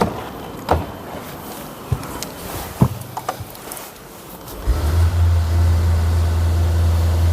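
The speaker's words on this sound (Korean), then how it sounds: "V8 차량답게 우렁찬 배기음을 자랑하고 있습니다." A Mercedes-Maybach GLS 600 with a V8 engine: a few clicks and small knocks come first, then the engine fires and settles into a deep, loud, steady low exhaust rumble that continues to the end.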